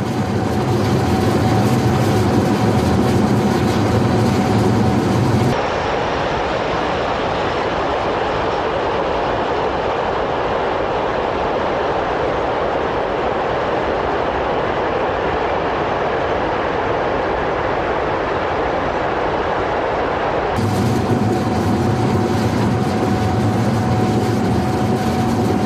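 A train runs on the rails between Paris and Dijon, a loud continuous rumble and rushing roar that changes tone midway as it enters a different section, then returns to the open rattle.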